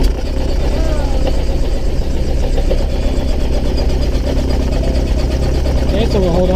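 A fuel-injected engine runs in a steady, loud, droning idle from start to finish, with a low rumble and faint voices underneath.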